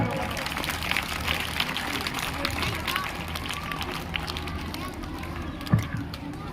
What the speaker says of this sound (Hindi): कृपया तालियां बजाते रहें।